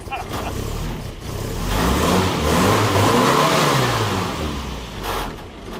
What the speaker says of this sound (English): you can hear the high compression pistons and the long duration cam.